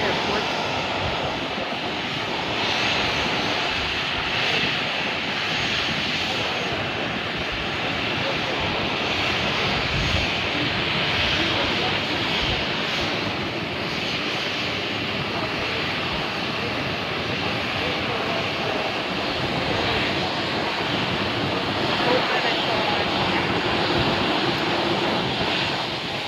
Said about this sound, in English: WestJet 737-800 heading back to Toronto Pearson International Airport.